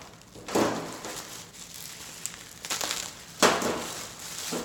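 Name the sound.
unpacking bubble wrap and layered packaging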